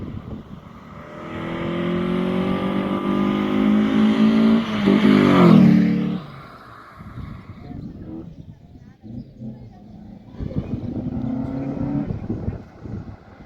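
VW Polo Classic 1.6 engine fitted with a cold air intake: a steady idle swells into a rising rev that peaks and drops away, followed by quieter rumbling and another shorter rev, with talk over parts of it.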